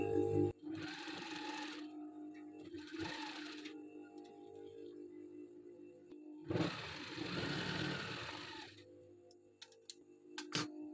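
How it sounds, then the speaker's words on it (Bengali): Sewing machine stitching a ribbon onto a kameez neckline, running in three bursts of steady rapid whirring with short pauses and clicks between. "সেলাই দিয়ে দিচ্ছি ভালো করে ফিতাটা আটকে থাকার জন্য নয়তো কিন্তু ফিতাটা খুলে যাবে"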